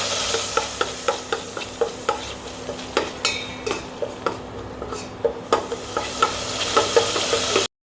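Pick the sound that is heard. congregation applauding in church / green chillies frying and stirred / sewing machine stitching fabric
green chillies frying and stirred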